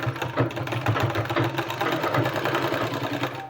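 A sewing machine runs steadily, stitching a decorative sleeve with a cord fixed along both sides, its fast mechanical whir close and continuous for the whole stretch.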